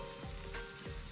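Onions frying in a pan for a Kerala-style egg roast, a close, steady sizzle with a couple of brief stirring scrapes and no talking.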